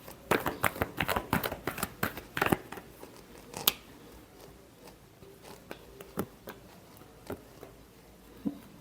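Tarot cards are shuffled by hand, starting with a rapid flurry of crisp, papery snaps and riffles. These thin out into scattered soft taps and flicks, close up and with no talk.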